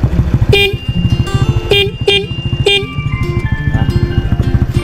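A motorcycle horn honks loudly in several short, sharp blasts over a running engine idling close by, with no talk during the clip.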